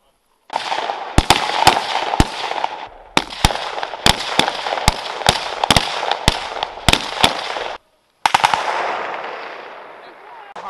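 Rifle fire during a simulated military assault training exercise, loud and close, with many sharp cracks in quick irregular bursts over a steady roaring background and a short break before it resumes.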